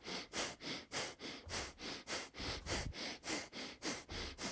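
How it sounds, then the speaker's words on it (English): Rapid, forceful nasal breathing during yoga breath of fire in a Kriya of Renewal practice: about fifteen sharp, evenly spaced sniffing exhales in a steady fast rhythm, close and clear. "Stay steady. Breath of fire."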